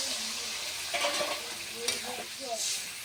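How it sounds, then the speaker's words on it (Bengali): Sizzling spice masala in a pan for a cauliflower and potato curry, with stirring scrapes and a brief burst of frying noise as water goes in; moderate and close, no talk. "এবার আমার সব কিছু কষানো হয়ে গেছে। এবার আমি জল দিয়ে দেবো।"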